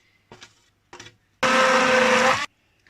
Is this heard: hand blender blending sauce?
yes